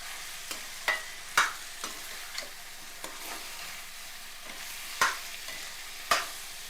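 Egg curry with elephant yam cooks in oil in a pan, giving a gentle background sizzle under a series of distinct spatula scrapes and clacks spaced about a second apart, close and clear, with nobody talking.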